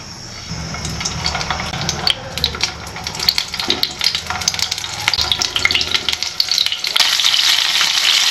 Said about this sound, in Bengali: তেল গরম হয়ে গেছে। এবার একে একে করলাগুলো দিয়ে ভেজে নেব।